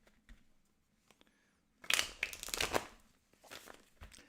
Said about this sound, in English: So let's go ahead and start shuffling.